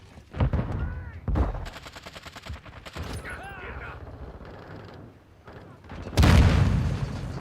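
Grenade blast and gunfire in Call of Duty Modern Warfare II with an ISO 9mm: sharp shots and bursts through the clip, then a loud explosive boom near the end over a dense battle bed, with radio-style voices mixed in.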